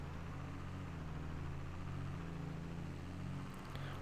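A tractor engine in Farming Simulator 22 hums in a steady, close, low drone while the machine drives along, even in loudness throughout with no voices.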